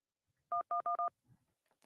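Four quick, loud telephone keypad tones pressed in a clean rhythm to accept a call on a live phone-in show, with a faint murmur of sound afterward.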